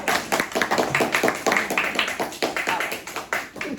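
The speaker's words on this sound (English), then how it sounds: "I should hear more claps" Students clap after a poetry lesson in a classroom, a small group producing uneven, sparse claps at moderate distance, with some faint voices mixed in.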